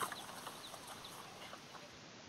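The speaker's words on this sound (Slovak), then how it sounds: "Chováme čistokrvné plemená sliepok. Tu je náš kmeň orávky bielej." A flock of purebred Oravka white hens at a farm aviary clucks in soft, scattered calls, fairly faint against a constant outdoor background, with no voices.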